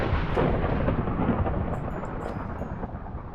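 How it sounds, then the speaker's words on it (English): A loud, dense rumble of thunder and heavy rain from a storm in the game Minecraft, a steady broad roar running the whole time with no one speaking. "That storm is really loud, and I do apologise for this."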